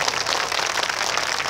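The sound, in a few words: applause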